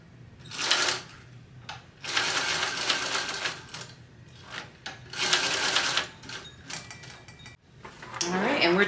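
Sewing machine running a quick stitch on a fabric strap, in several rapid mechanical bursts with short pauses between them, close and clear.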